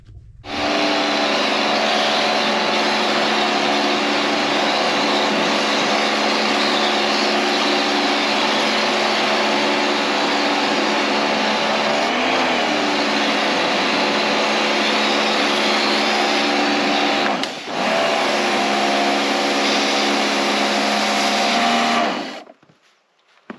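A DIY wood-fired hot water pressure washer drones loudly and steadily as it sprays an excavator. The pump-like hum carries a few tonal shifts and a brief dip near the end before it cuts off sharply.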